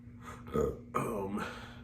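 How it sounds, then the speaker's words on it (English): Two low, throaty burps in quick succession, close to the mic, the second longer and rumbling, over quiet background hum. "So sorry about the burping"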